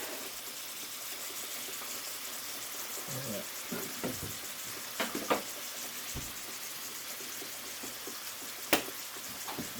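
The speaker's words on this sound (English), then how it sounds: "we're just going to let that simmer and cook" Beef stew with chunky onions cooking in a pot, a steady soft bubbling and sizzling hiss with a few brief clinks and knocks, close and continuous, no one speaking.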